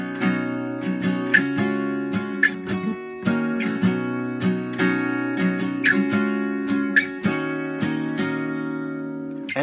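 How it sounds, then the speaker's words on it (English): An acoustic guitar strums the chord progression of a song in a steady rhythm, with regular downstrokes and a few sharper accents, played close and clear with no voices. "So overall, if I was just strumming it, it would kind of sound like this."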